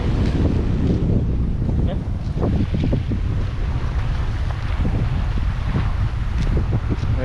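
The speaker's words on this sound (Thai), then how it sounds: "ลมแรงนะครับคุณผู้ชมขึ้นอย่างแรงนะครับนี่" Strong gusts batter the microphone in a steady, loud rumble throughout, with the wind noise dominating the whole stretch outdoors.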